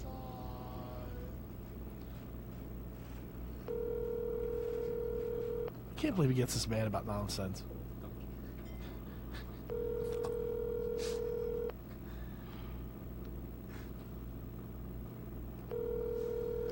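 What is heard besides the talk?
telephone call dialing and ringing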